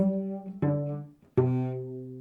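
A low bowed double bass note, a C natural, sounds sustained and resonant, with a few separate bowed tones in succession, played alone and fairly close.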